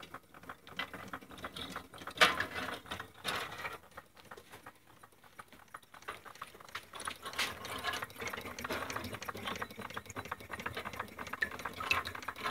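A Carette water elevator for a live steam engine runs, its small mechanism giving a quiet, continuous rattling and ticking with faint trickles, steady and close, with no talking.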